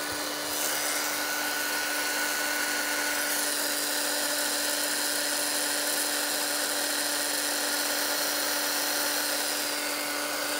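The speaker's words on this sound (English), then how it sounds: "let's heat emboss that" A heat embossing tool blows hot air onto ink on a mixed media art journal page, giving a continuous, close, even whirring hiss with a faint whine that runs unbroken throughout, without any speech.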